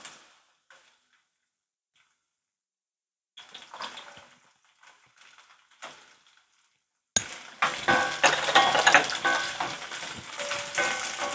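Small shallots sautéing in a pan, a few soft scrapes and light stirring at first, then a sudden bright sizzle that bursts in and continues strongly to the end.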